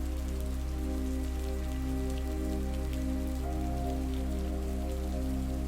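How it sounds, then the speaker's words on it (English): Steady rain drums on the roof of a cabin in the woods, a dense even patter that holds throughout over a constant low hum, with no voices. "the rain intensifies, drumming a rhythmic patter on the roof above"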